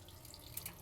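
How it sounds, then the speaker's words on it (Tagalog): Water from a tap runs steadily as peanuts are washed under it in a kitchen sink, a soft continuous splashing with a couple of brief brighter drips near the end. "Hugasan natin siya"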